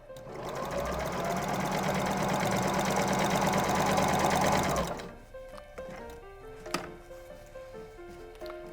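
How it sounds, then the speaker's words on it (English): A sewing machine runs in one fast continuous burst for about five seconds as it stitches across the bottom of an apron, then stops, leaving quieter handling noises and a brief click. "You're sewing across the bottom now, and you're sewing across that small opening"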